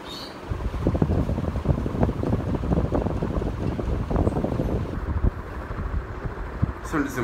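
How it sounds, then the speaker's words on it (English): An electric fan set to speed 5 pushes a strong, steady whoosh of air close by, with a voice talking over the constant rushing noise. "On speed 5, this fan moves a lot of air."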